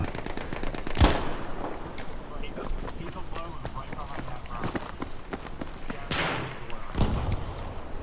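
Video game gunfight: sharp gunshots and bursts crack out near and far in a squad battle, including a couple of loud close shots, under ongoing talk.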